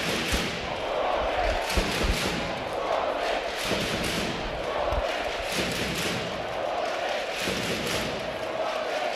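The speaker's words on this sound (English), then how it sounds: "And listen to that crowd." Large arena crowd at a Finland versus Sweden world championship floorball final roaring and cheering continuously, with occasional thuds and stick or ball knocks, a commentator talking over the din.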